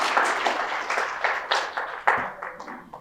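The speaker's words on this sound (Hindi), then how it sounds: "ताली तो बनती है भाई, बिल्कुल।" Audience applause at a Hindi book launch honouring Satnami writer Parideshi Ram Verma: a patchy, moderately loud burst of clapping from a modest crowd, with scattered claps fading toward the end.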